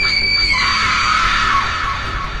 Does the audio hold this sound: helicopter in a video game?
no